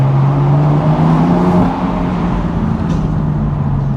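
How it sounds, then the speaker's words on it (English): A BMW M3 (F80) on a test drive after an ABS wheel speed sensor replacement, heard from inside as a loud steady engine drone with road roar, easing slightly partway through. "I've just taken the car out for a drive"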